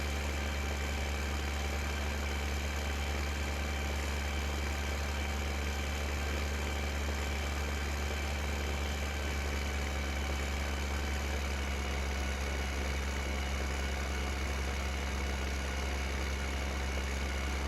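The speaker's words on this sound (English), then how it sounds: "this tractor here is kind of neat" A tractor engine idles in the Farming Simulator video game, giving a steady, unbroken low mechanical hum throughout, with no talking over it.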